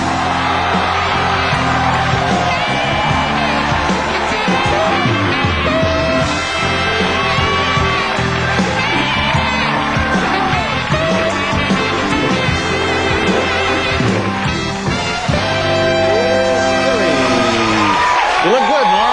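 Studio audience cheering and whooping for Norm MacDonald's entrance on a late-night talk show, a loud, continuous roar of crowd noise with yells, lasting the whole stretch.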